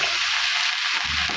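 Turkey berries (sundakkai) tipped into a hot pan of sautéed onion and tomato give off a brief, steady, bright sizzling hiss, close by and with no voices.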